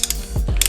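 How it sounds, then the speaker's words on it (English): A torque wrench clicks on the clutch lock nut of a BMW R1100RT motorcycle, a short, close, ratcheting burst with a couple of sharp mechanical clicks and nothing else. "then we torque the lock nut to 105 Newton meters"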